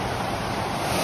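Waterfall in a remote gorge near Petra, heard as a steady, close, loud broadband rush of falling water that fills the whole second with no voices.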